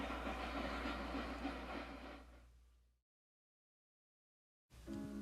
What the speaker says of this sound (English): the sound of the train drowned her voice